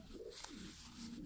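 King breed meat pigeons cooing in a loft, with soft low repeated coos and some faint background noise, no talk.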